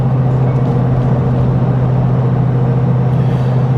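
A car cruises at about 50 along Pig Trail Highway 23 in Arkansas, a steady low engine and road drone holding constant throughout, close and unbroken.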